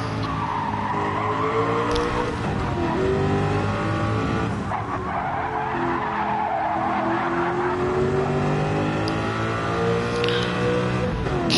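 Group C race cars in Gran Turismo 7 roar around a track with loud, overlapping engine drones that rise and fall as they jostle, and tire squeal and skidding run continuously throughout.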